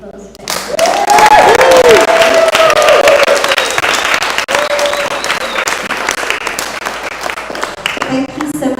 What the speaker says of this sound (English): I think we should all give Danny a round of applause